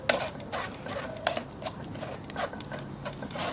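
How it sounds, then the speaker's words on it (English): Well-cooked potatoes being pushed by hand through a metal strainer, giving soft repeated scraping and pressing strokes with small clinks, close and fairly quiet, with no voice over it. "literally sieving the potatoes through the strainer, and they come out perfectly smooth on the other side."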